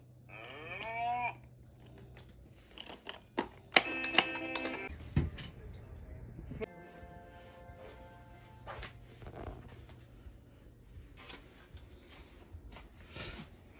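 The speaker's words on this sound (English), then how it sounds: "There's Mama Cow. She loves taking care of her baby Mama cow." A cow lows a couple of times at a farm, the calls faint and moderately distant, mixed with scattered clatter and other barnyard noises.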